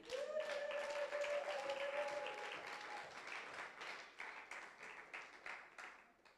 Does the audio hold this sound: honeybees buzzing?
no